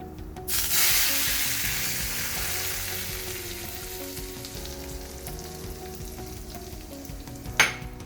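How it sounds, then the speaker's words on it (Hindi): A loud sizzle erupts as hot cumin tempering oil hits lentils for dal fry, then settles into a steady frying hiss that slowly fades, with a brief clatter near the end. "और अब डालेंगे ये तड़का अपनी दाल पे"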